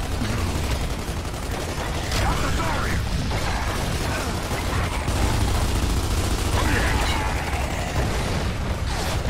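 Heavy sustained gunfire from a firefight in Gears of War 2, dense continuous bursts and booms filling the whole stretch at steady loudness, with voices shouting over the shooting.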